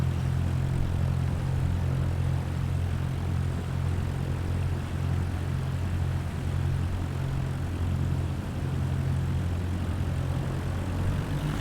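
A propeller aircraft engine drones steadily at full throttle in Microsoft Flight Simulator 2024, a loud continuous hum with a low pulsing tone and no pauses or voices.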